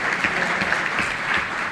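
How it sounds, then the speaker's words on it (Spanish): Audience applause at an education event on computer science in schools, greeting a woman named Claudia: a brief wash of steady crowd clapping, moderately loud and even throughout. "Aplausos para Claudia."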